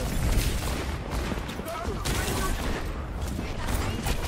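Continuous gunfire in an Overwatch match, rapid overlapping shots and booms packed densely throughout at a steady, loud level.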